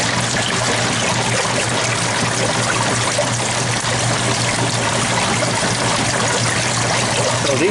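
Water draining from an old, non-winterized washing machine at an outdoor laundromat, a loud, steady rushing and trickling flow with a low pump hum underneath.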